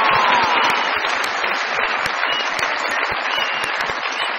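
A studio audience at a Pakistani comedy talk show bursts into steady, dense applause welcoming cricketer Saeed Ajmal as a guest, sustained and close throughout.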